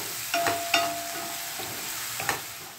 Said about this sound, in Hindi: इसे अच्छी तरह से मिक्स कर लें।